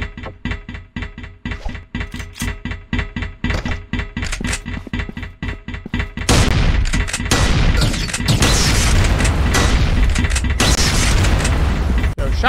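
Rapid shotgun blasts in the video game Machine Hunt, a fast run of loud punchy booms giving way to a dense, sustained roar of gunfire and chaos, close and without talk.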